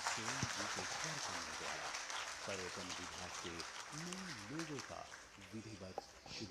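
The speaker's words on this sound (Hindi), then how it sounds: "तालियां जोरदार हो।" Applause from an audience at a Jharkhand government ceremony unveiling a new tourism department logo runs continuously beneath a loud voice speaking over a microphone, the clapping staying in the background throughout.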